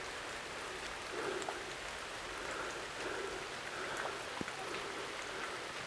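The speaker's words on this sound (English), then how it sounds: "Sometimes it's nice to have a peaceful rain like this in a video, but the cameras don't like it." Steady, peaceful rain falls around a covered bridge in Wisconsin, an even wash of patter with scattered louder drips close by and no voices.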